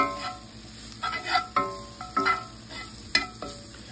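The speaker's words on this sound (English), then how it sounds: "after you get the garlic in there, guys, just mix it in" Garlic being stirred in a hot pan for mostaccioli pasta: repeated scraping strokes with light sizzling underneath, close and moderately loud in an irregular rhythm, no speech.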